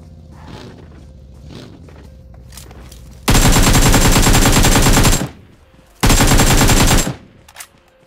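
Loud gunfire in the mobile battle royale game PUBG Mobile, two sustained bursts of rapid automatic fire, the first about two seconds long and the second about one second, standing out over quieter game ambience and footsteps.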